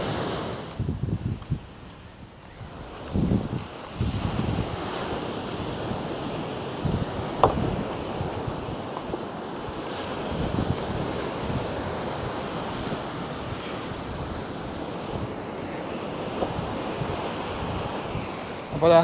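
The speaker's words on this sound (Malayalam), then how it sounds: "അവിടെയാണ് ഇപ്പോൾ കടൽ വെള്ളം നന്നായിട്ട് കയറിക്കൊണ്ടിരിക്കുന്നത്" Sea waves surge and wash against a coastal seawall near a building on a bend of shoreline, a continuous rough roar of surf with wind buffeting the microphone and occasional louder splashes.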